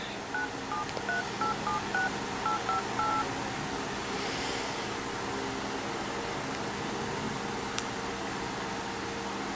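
An iPhone dials a call: about a dozen short, evenly spaced touch tones over roughly three seconds, then a low steady hum of room noise.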